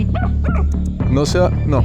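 A dog barks and yips in a rapid series of close, loud barks outdoors near Iguazú, with a person talking over the barking.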